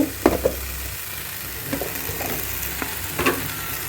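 A vegetable bhaji with a little turmeric powder sizzles steadily in a pan while a spoon stirs it, giving a few sharp scraping clicks over the constant low hiss. No one talks.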